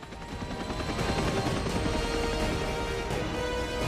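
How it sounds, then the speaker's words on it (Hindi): MH-60 Romeo naval helicopters during a firing drill at a naval exercise, a dense continuous roar of rotor and engine noise mixed with rapid gunfire crackle, steady and moderately distant throughout. "यहाँ पर ये MH-60 रोमियो हेलीकॉप्टर्स यहाँ पर ये फायरिंग की एक ड्रिल दिखा रहे हैं"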